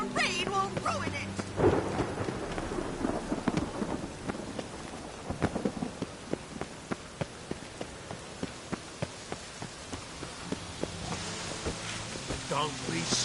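Rain falls steadily in the open world of The Witcher 3, with low rumbles of thunder and a spatter of sharp drops, while character voices speak over the storm near the start and end.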